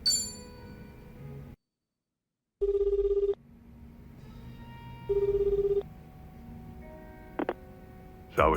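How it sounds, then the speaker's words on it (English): A phone rings in the Like a Dragon: Infinite Wealth video game, with two clear electronic ring bursts separated by a pause, loud and close, over quiet game ambience. "Phone Sawashiro"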